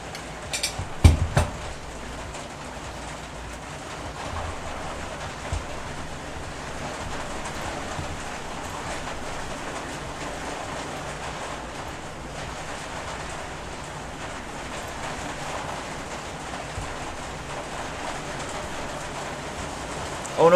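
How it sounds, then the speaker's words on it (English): Steady rain drumming on a plastic roof in a sci-fi horror survival game, a continuous even hiss with a few brief louder knocks near the start, heard alone. "Oh no, it's raining."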